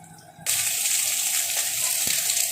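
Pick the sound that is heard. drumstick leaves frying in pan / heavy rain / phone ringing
drumstick leaves frying in pan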